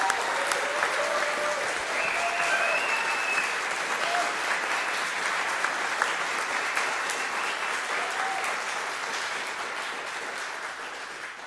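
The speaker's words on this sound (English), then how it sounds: "So please join me in a round of applause for Wayne Brashear." A community college board meeting crowd applauds a retiring staff member, steady, full clapping from many people that runs without pause for over ten seconds and eases slightly near the end, with faint voices mixed underneath.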